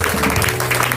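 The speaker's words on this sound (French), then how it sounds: "Acclame d'abord pour toi-même." A church congregation applauds in a brief, dense burst of clapping, with no talking.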